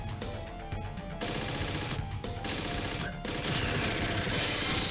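Rapid automatic gunfire from the Alien 3: The Gun arcade shooter, a dense continuous barrage over game music and effects, loud and steady with brief dips.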